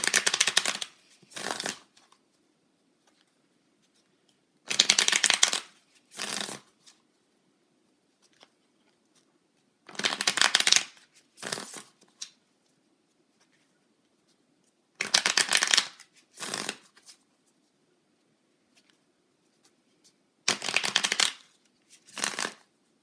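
Tarot cards are shuffled in five regular bursts, each a close, crisp riffle followed by a shorter flutter, separated by silent pauses with no talk.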